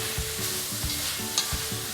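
Vegetables for Hakka noodles are stir-fried with salt, pepper and vinegar, a constant hot hiss under rhythmic thumping tosses and scrapes of a utensil in the pan, close up and without speech.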